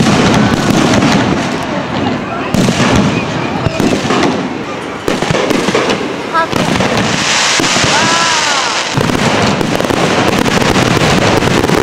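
Fireworks burst over the beach at Waikiki in front of the Hilton, cracking and booming one after another amid a large, noisy crowd, with people talking throughout.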